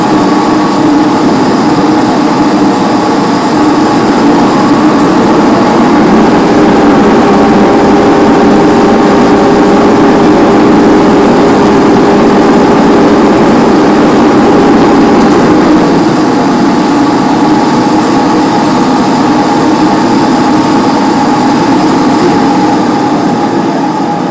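A lathe with a four-jaw chuck runs steadily at 125 rpm while machining a tractor trunnion part for an MTZ-80, giving a loud, continuous motor hum and whine with no speech.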